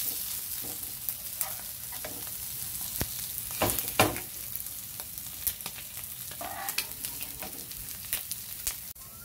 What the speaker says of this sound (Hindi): इसे हमें क्रिस्पी होने तक फ्राई करना है